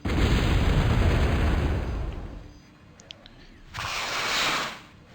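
Weapon fire from massed units in the real-time strategy game Balanced Annihilation, heard as a dense rumbling barrage of booms that fades out, then returns as a sharper hissing burst of shots.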